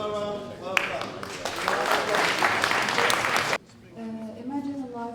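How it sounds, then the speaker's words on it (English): A crowd claps steadily as a presenter comes up on stage at a student Dragons' Den pitch event. The sustained applause swells for about three seconds, then cuts off abruptly and a voice starts speaking. "Give them a round of applause"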